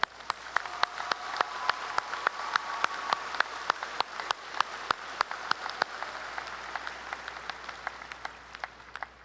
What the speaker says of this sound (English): Will you please all join me in a round of applause for our college marshals?